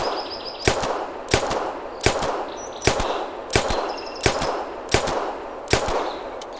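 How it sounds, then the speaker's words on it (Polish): Pistol shots in the hunting game TheHunter Classic come as nine sharp, loud reports fired at an even, fairly quick pace, each followed by a short decaying tail, with faint ambient noise between them and no talk. "A teraz pokażę wam jak szybko robię strzał z tego pistoletu"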